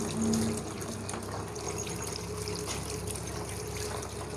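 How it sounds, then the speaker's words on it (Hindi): Cold water poured over drained rice, steady running and trickling continuously, close and moderately loud, with no voices. "यहाँ पे हम थोड़ा सा इस पर ना ठंडा पानी डाल देंगे"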